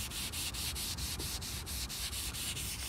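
Wood being buffed by hand with a cloth as the final polishing step, producing a steady, close rubbing swish in rhythmic back-and-forth strokes, roughly four per second, with no voices.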